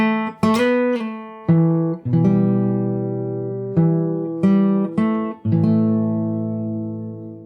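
Fingerstyle acoustic guitar plays a main theme, with plucked and rolled chords ringing out clearly, each struck note sustaining and slowly fading before the next few picks.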